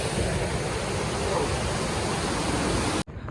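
A waterfall roars in a dense, steady rush of white noise, loud and close, before cutting out abruptly at the end.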